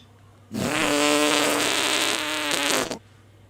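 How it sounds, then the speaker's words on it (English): A loud, drawn-out fart lasting about two and a half seconds, a buzzing, rippling blast that starts and stops abruptly against near silence. "Methane created by cow farts"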